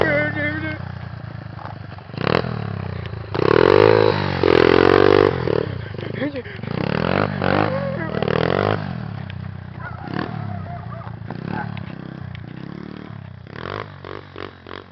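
A pit bike engine revs outdoors in winter snow after its throttle sticks. The loud, close buzzing motor swells into a sustained high rev midway, then settles into a rough idle with clattering.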